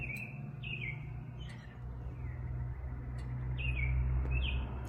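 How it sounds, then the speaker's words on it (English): Several birds chirp and tweet in short bursts over a steady low rumble, with a few calls standing out clearly near the start and toward the end. "First birds of the day."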